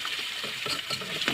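Onion, garlic and chili stir-frying in a pan, a continuous close sizzle with faint scraping stirs.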